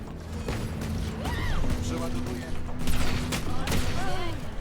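Gunfire from the Outlaw weapon in the video game Valorant crackles in a quick burst of shots and impacts while a player talks over the action.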